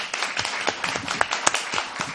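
Audience applause following a speech at a community gathering with rabbis, a steady wash of many hands clapping with a few sharper individual claps standing out, moderately loud and sustained throughout.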